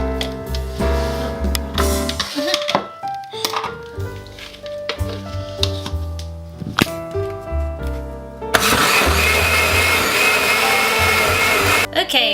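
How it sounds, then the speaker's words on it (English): Blender running on high to mix horchata, a loud steady whir that shifts and then surges into a dense roar partway through, with some clattering tones early on. "And now we're going to blend it on high for 2 minutes."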